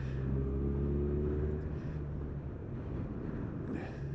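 A 2019 Kawasaki Z1000 SX motorcycle engine turns a low, steady 2000 RPM in sixth gear at about 30 mph, its harmonic drone loud and close at first, then easing into a rougher rumble mixed with wind noise.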